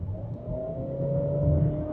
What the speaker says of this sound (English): what you get is that engine drone and not a lot of acceleration